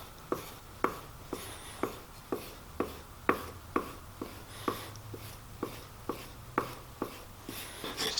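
A worn V-gouge is stropped on a piece of leather glued to a board, giving a steady series of about fifteen short rhythmic rubbing strokes, close and moderately loud.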